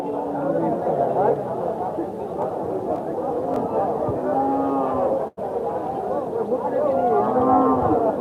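Cattle low repeatedly at a livestock market amid a busy crowd of people chattering nearby, with the moos rising over the steady murmur of voices.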